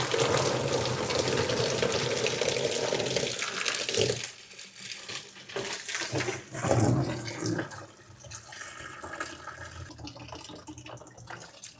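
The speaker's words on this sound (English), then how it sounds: "catch the coolant that's about to come flooding out" Coolant gushes and splashes out of a disconnected thermostat housing pipe on a Dacia Sandero, a loud continuous pour that eases after a few seconds into uneven trickling and dripping, with no voices.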